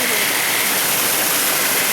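Steady rushing splash of a water feature at House on the Rock, spouting water like a dragon's mouth, broad and continuous at close range with no break.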